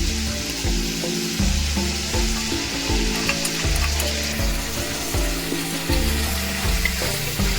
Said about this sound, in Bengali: আমি পেঁয়াজটাকে একটু তেলে ভাজা ভাজা করে দিচ্ছি